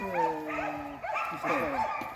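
Laika hunting dogs at wild boar trials yip and whine in high, wavering cries close by, with a voice talking alongside.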